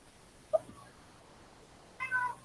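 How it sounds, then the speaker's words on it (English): Indoor house cats meow noisily: one short, sharp meow early on, then a louder, drawn-out meow near the end, close by in a quiet room. "Boy, cats, you're being so noisy."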